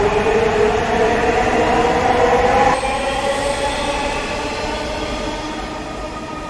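A Dhaka metro rail train pulls away from Pallabi station toward Agargaon in heavy rain. A loud close rumble of wheels carries a whining tone that cuts off after three seconds and leaves a fading roll.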